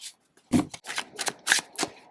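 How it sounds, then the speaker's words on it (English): Bonefire Tarot cards shuffled overhand by hand, a quick run of about seven soft papery slaps and swishes in an uneven rhythm, close and clear with no talking. "It's nice to shuffle overhand, because the size is really lovely."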